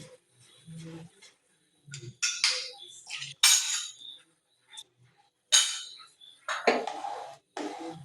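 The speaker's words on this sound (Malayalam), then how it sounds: "ഇപ്പം ഇളക്കി കൊടുക്കണം." Intermittent metallic scraping and clinking of a utensil stirring mango pudding mixture in a pan, in short irregular bursts with quiet gaps between.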